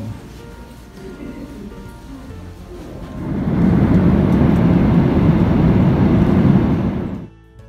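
Broad, steady airliner cabin roar after boarding rises at about three seconds and holds loud before dropping off near the end, over quieter murmuring from the cabin beforehand.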